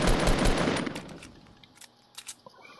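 Gunfire from a shooter video game: a dense, loud burst of rapid automatic shots that fades over a couple of seconds, followed by a few scattered single shots.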